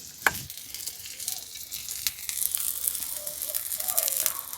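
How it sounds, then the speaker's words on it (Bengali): Dosa batter made from rice flour and gram flour fries in a pan as a little oil is drizzled around the edges, giving a soft, steady sizzle with light crackles and a few sharper ticks, fairly quiet and with no talking. "সাইড থেকে অল্প একটু তেল ছড়িয়ে দিচ্ছি।"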